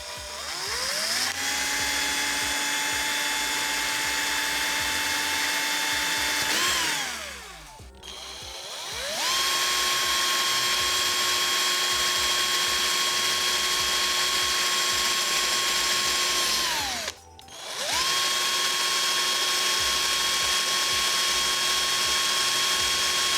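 A power drill with a 2.5 mm bit boring a hole into a laptop, a loud steady high whine running for several seconds at a time, cutting out twice briefly before spinning back up.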